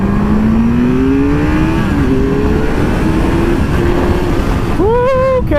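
A 2016 Kawasaki Z800 ABS sport motorcycle drones loudly and steadily with rising pitch as it accelerates onto a highway, heavy wind rush throughout, ending in a sharp rev climb.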